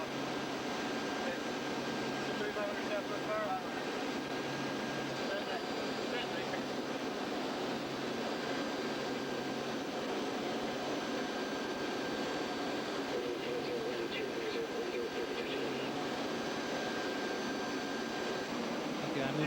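Steady, dense cabin roar inside a P-3 aircraft in flight during the landing pattern, a constant broadband drone with a faint tonal hum throughout and no distinct events.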